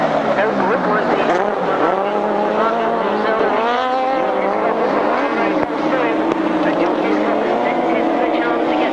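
Sidecar racing outfits, with Tim Bennett and Steve Hargreaves among them, roar down a back straight on the last lap, a continuous loud engine wail with shifting pitch under steady commentary.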